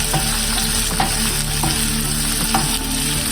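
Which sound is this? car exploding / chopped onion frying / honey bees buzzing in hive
chopped onion frying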